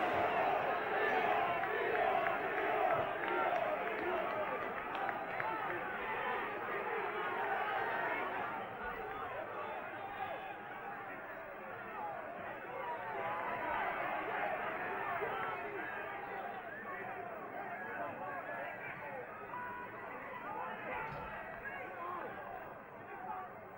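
Large football crowd at a Peterborough United versus Liverpool match, a steady roar of chatter and shouting from the terraces throughout, swelling slightly mid-way, with a commentator talking over it.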